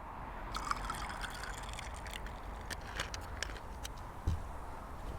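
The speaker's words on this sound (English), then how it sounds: "And then just top it up with soda water or sparkling water, whatever you prefer." Soda water is poured over a raspberry rum mojito in a glass, a steady fizzing trickle with small splashes and clinks, close and fairly quiet with no talk.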